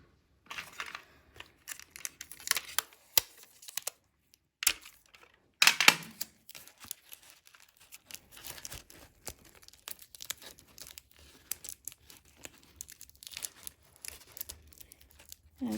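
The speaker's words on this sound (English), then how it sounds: "I'm gonna tape it up at the top where we made our little flower stem." Tape being pulled from a roll and wrapped around the top of a paper flower stem, heard as close, quiet crinkling and tearing in scattered bursts with pauses between.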